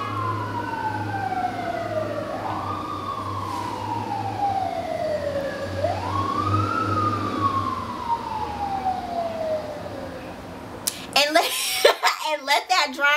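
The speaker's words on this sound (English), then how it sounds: "I know that siren was loud" A loud wailing siren rises and falls in slow sweeping cycles, then cuts off as a person starts talking close by.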